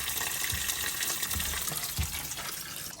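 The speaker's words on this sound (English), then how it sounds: "Pump the water out the system." Water pumped and draining out of a domestic heating system during plumbing work, a steady close gushing rush of liquid with a few low thumps, no talk.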